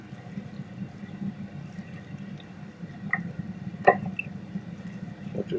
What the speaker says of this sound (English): So less and less bubbles as time goes on.